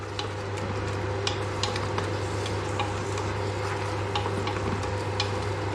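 Biryani masala fries in a pan with a constant sizzle while a spoon stirs, giving repeated light ticks and scrapes against the metal, with a low steady hum underneath.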